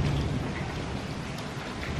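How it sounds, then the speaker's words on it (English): Heavy rain pours steadily as a dense, loud wash of noise with a low thunder rumble beneath, continuous and without talk. "This rain though, this is insane."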